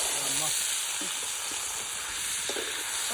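Washed rice sizzles and is stirred in a hot pan with tempered spices for vegetable biryani, a continuous frying hiss with occasional scraping, and a voice speaks briefly over it.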